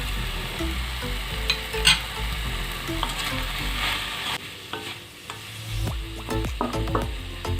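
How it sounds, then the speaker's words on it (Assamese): Chopped tomatoes and cashews fry with salt in a pan for butter chicken, a steady sizzle broken by frequent scraping and clinking of a spoon as they are stirred. "দুই মিনিট সময় এইখিনি গোটেইখিনি ভাজি ল'ম।"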